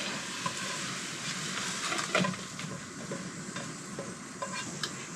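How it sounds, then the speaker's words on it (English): Wilted spinach scraped out of a frying pan, a steady close sizzle with intermittent scraping and stirring scuffs of a utensil against the pan, with no talk. "We're going to take it out of the pan."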